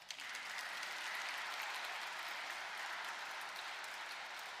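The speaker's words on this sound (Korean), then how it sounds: "위해서 박수 칩시다" Church audience applauding after a Lenten lecture, steady dense clapping that fills the whole stretch at moderate level, no voices over it.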